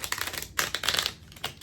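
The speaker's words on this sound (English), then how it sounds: "let me shuffle." Tarot cards are shuffled by hand in a quick run of crisp, papery clicks and flutters, close and fairly soft, with no talking.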